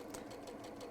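A sewing machine stitches a quarter-inch quilt seam, a fast steady mechanical rattle with a regular rhythmic pulse, close and continuous.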